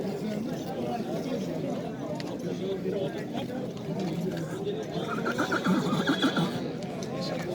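Horses at the Nookat livestock market neigh and whinny repeatedly, with hoof clip-clops and background chatter of people throughout and the calls growing louder toward the end.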